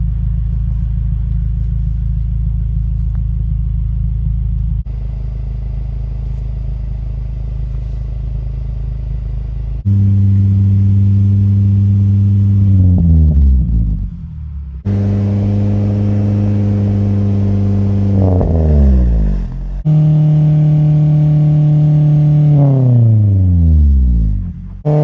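A car fitted with a Greddy RS Revolution 2.5-inch catback exhaust idles with a deep steady rumble, then is revved repeatedly, the engine note climbing sharply and dropping back several times, loud and close with no talking.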